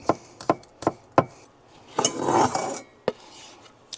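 Knife chopping food on a board in a truck camper, a run of sharp evenly spaced thuds followed by a scraping rustle and one more late chop, close and fairly loud with no talk.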